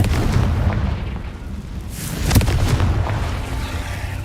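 A Confringo fire spell blasts in Hogwarts Legacy, a loud booming burst over a dense, continuous rumble of battle noise, with one sharper peak in the middle.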